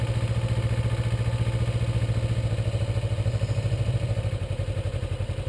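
A Kawasaki Ninja motorcycle engine idling with a steady rhythmic low putter, close and continuous, as the clutch is eased out to pull away.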